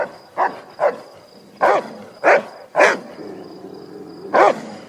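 Dogs bark in sharp separate bursts, about six loud barks spaced irregularly over a few seconds, close by, with a faint steady hum between them and no speech.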